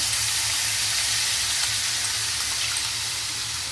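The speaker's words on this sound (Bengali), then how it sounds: "তো এবার পেঁয়াজ দিয়ে দিলাম এর মধ্যে।" Chopped onions sizzle steadily in hot oil in a pan while a Bengali tiger prawn malaikari is being cooked; a dense, continuous close-up hiss with no pauses and no voices.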